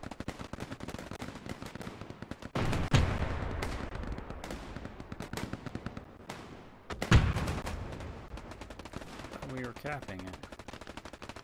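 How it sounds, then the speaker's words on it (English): Sustained machine gun fire in a war video game, with a steady rapid rattle of shots running throughout, punctuated by two heavier close blasts, while a voice speaks briefly over the gunfire. "sounds like there may be a machine gunner set up at mid HQ"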